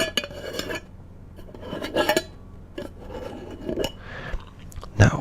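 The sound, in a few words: unscrewing a Bath & Body Works mahogany teakwood candle lid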